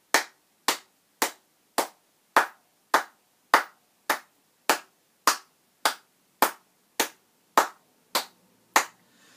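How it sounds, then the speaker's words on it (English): Hands clap alone at a steady moderate pace, about sixteen crisp, evenly spaced claps roughly half a second apart, close and clear over near silence. "we're going to clap in 1, 2, 3, 4, 1, 2, 3, 4 sections"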